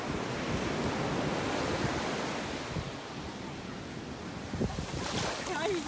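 Surf rolling onto Miramar beach in Goa at sunset, a steady broadband wash of breaking waves with wind buffeting the microphone throughout and a brief voice near the end.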